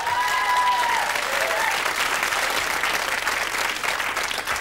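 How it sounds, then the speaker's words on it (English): Loud, dense studio audience applause on a 1992 British television quiz show, a continuous wash of clapping that holds steady from start to finish. "Another round of applause."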